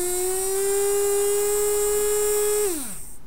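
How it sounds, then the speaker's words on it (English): A small DC motor driven by an L298N motor driver on an ESP32 setup whines at a steady pitch, loud and close, then winds down as it slows near the end. "this first motor will start rotating"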